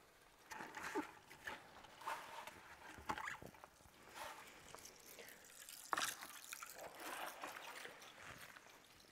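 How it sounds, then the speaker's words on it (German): Engine oil runs out of an opened drain plug into a pan, a continuous liquid trickle and splatter with scattered drips and clicks, fairly faint and close. "Und das Öl wird dann einmal alles komplett rauslaufen, wenn wir gleich die Ölablassschraube abschrauben"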